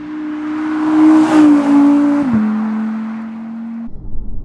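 A supercar's rear-mounted V10 engine on a country road, a loud, steady drone holding one pitch, briefly rising, then stepping down as it shifts before cutting off near the end.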